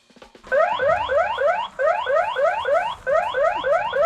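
A loud electronic anti-theft alarm on a Segway Navimow X350 robotic lawnmower repeats rising whooping sweeps in quick bursts, pausing briefly twice before starting again, with no talking.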